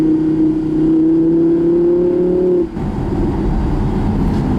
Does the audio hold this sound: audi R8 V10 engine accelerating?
yes